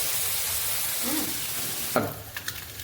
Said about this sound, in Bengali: ভেজে নিব বেশি ভাজা যাবে না মাছটা